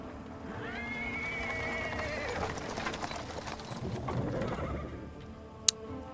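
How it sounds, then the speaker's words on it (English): In a fantasy video game scene, a horse-drawn cart rolls over paving stones with a steady clip-clop of hooves and rumbling wheels, while a horse whinnies early on and a sharp click lands near the end. "He's interrupted by the sound of the wheels rolling on the paving stone. A cart drawn by a sad little horse appears from the corner."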